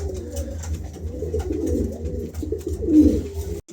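A pair of Lahori pigeons coo softly and repeatedly at close range, a low, continuous burbling call.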